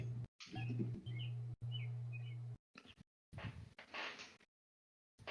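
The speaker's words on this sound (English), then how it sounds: "That's a very loud bird." A loud bird chirps close by in quick bright bursts for the first few seconds, then the sound breaks up into short gaps and fades to silence.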